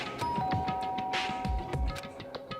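An electronic doorbell chime in the video game Danganronpa: Trigger Happy Havoc rings out with a sustained tone over a busy, noisy background.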